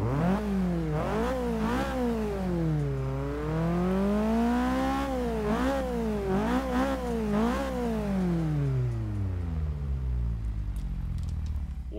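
A 2013 Subaru BR-Z with about 200 horsepower revs hard in Forza 6, its engine note climbing and falling through repeated gear changes over a steady low drone, loud and continuous, with one long upward sweep before easing off.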